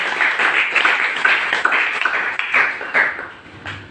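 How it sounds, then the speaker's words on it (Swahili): A church congregation clapping for Jesus, a dense, steady round of many hands that stays loud and even before easing off slightly at the end. "Pigia Yesu makofi."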